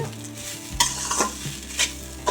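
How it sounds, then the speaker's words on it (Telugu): Bamboo shoots stir-fried with salt in a pan, sizzling steadily while a spatula scrapes and knocks against the metal in a few sharp strokes, close up and without talk. "సాల్ట్ వేసుకొని బాగా ఫ్రై చేసుకోవాలి"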